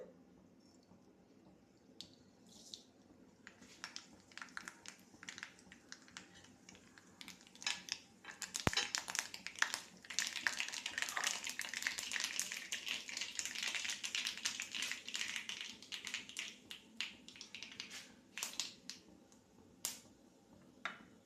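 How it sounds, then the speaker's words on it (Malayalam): Mustard seeds splutter in hot oil for a lime pickle, sparse sharp pops at first that build into a dense, crackling flurry of quick close clicks, then thin out again toward the end. "എണ്ണ തിളച്ച് ഞാൻ കടുക് ഇട്ട് കൊടുക്കാൻ പോവുകയാണ്"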